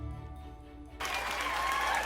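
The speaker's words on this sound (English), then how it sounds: "Let's all cheer for Joseph!" Children burst into loud cheering and clapping partway through, a sudden broad roar that holds steady to the end after a quieter, murmuring start in a preschool group setting.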